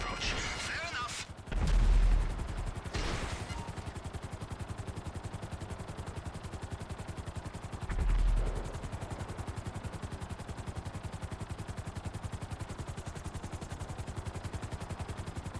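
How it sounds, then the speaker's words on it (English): Steady rapid gunfire in the video game GTA V rattles continuously throughout, with two heavier booming blasts standing out, dense and close like a combat scene. "the sound of gunfire"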